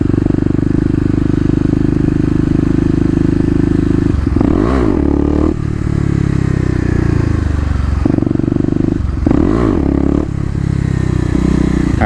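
A Kawasaki KLX250 motorcycle revving hard during second-gear wheelie practice at a mall lot, a loud steady engine drone that dips and rises twice with quick throttle blips, close by and without speech.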